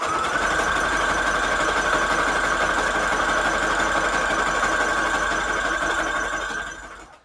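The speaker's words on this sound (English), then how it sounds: "let's sew down the edge here of the strip here." A sewing machine hums steadily and loudly while stitching down the edge of a paper strip for a Christmas book-page flip-out, running continuously for about seven seconds before winding down to a stop.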